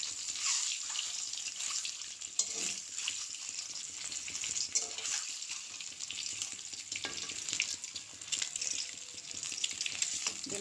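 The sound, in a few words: eggs frying in pan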